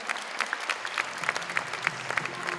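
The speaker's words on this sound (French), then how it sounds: "Je vous demande de l'applaudir très fort." Audience at a dance awards ceremony applauding, sustained clapping with a rhythmic pulse of accented claps, moderately loud and steady.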